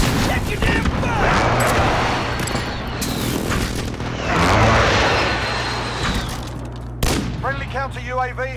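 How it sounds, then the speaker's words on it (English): Airstrike explosions in a first-person shooter video game, several heavy booms in succession with rumbling tails and scattered gunfire, loud and close, mixed with game radio voices. "Gosh, okay, it's our airstrike."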